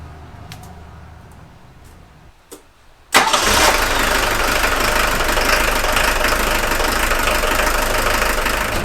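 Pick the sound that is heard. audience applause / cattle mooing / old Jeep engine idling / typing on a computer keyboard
old Jeep engine idling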